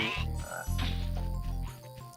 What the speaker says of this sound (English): So you see here we have little frogs here. Those are little enemies I was talking about before.